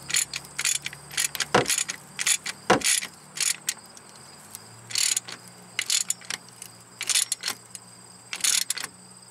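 A hand ratchet tightens a hose clamp or bolt on the steering rack of a 2005 Lexus ES330 during repair, giving quick bursts of clicking at close range separated by short pauses.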